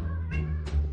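A mother cat with four kittens gives two short meows close by over a steady low background hum.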